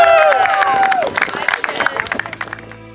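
Wedding guests applauding and cheering at a resort reception, a burst of clapping mixed with crowd voices and whoops, trailing into scattered claps as it fades.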